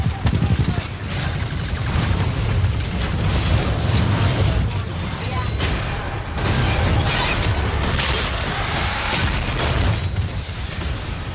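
Explosions and gunfire boom and crackle in repeated bursts during a fight between giant robot Titans in a video game, loud and dense with mechanical clanks, and a voice talks over the action.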